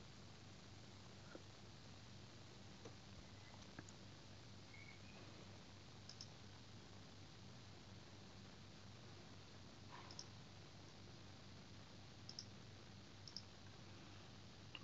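Computer mouse clicks at a PC, a handful of faint, sparse single clicks spaced irregularly in a very quiet room.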